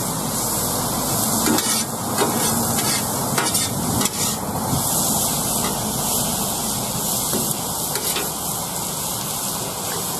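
Vegetables and swordfish sizzle steadily on a flat top grill. The frying hiss is loud and continuous, with faint scraping and stirring clatter throughout and no talking.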